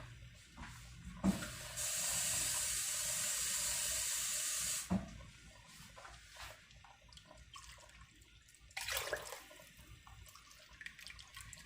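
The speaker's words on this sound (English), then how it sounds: "I added 6 cups of water to my beans" Water pours steadily for about three seconds into a pot of dried fifteen-bean soup with a ham bone, a loud continuous rushing hiss, with a few clanks and handling noises before and after.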